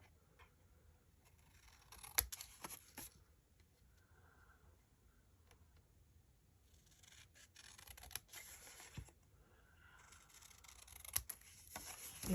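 Paper being trimmed with scissors at a desk: quiet, sparse snips and light rubbing in a few short bursts separated by near-silent gaps.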